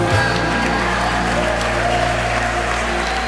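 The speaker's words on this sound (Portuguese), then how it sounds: "Se você crê, diga aleluia e aplauda o Senhor Jesus." A church congregation claps along under steady, sustained music, a continuous wash of applause held at an even level for a few seconds.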